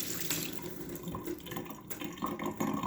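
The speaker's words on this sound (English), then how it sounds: "Once the fish is rinsed out, put this rack." Running tap water pours steadily into a sink as a salmon is rinsed for smoking, a continuous splashing wash with small clatters and drips, close and moderately loud, no talking.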